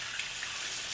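Running tap water pours steadily as period underwear is rinsed under it, giving a continuous close hiss with no pauses.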